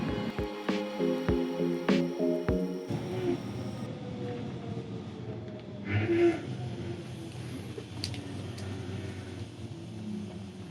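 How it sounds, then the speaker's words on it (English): A train rumbles and slows at Kleinbettingen, Luxembourg, steady rolling noise with some clanks and a hum of machinery, gradually settling as it comes to a halt. "And the train stopped."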